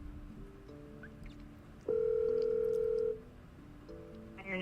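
A telephone call rings out to an AI appointment-booking agent: a series of steady electronic tones, with one louder sustained tone in the middle and softer tones before and after.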